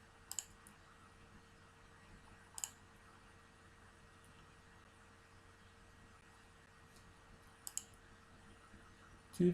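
A computer mouse clicks a few times while a table is created in a spreadsheet program, sharp isolated clicks spaced several seconds apart over a quiet room hiss.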